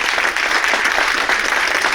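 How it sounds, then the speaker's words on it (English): An audience at a Lunar New Year celebration applauds in a dense, steady burst of clapping that lasts the whole two seconds and fills the space. "Round of applause."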